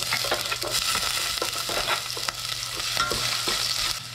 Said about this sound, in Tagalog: gisa na natin yung luya